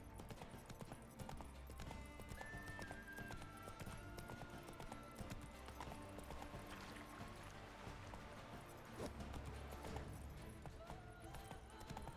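Roach, a horse in The Witcher 3, gallops in a steady clip-clop of hooves amid busy game sound, continuous and fairly close throughout.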